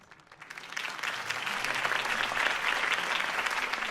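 Crowd applause at a political campaign rally for Harvey Dent in the Batman Telltale Series video game, a dense, steady wash of many hands clapping that swells quickly and holds loud throughout, with no talking over it.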